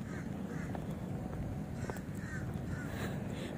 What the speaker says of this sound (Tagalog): Tapos may ganun pang tunog ng ibon.